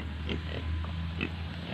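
A pregnant backyard sow, a cross between a crossbreed and a pure native pig, gives a few soft, low grunts close by against a steady background hum.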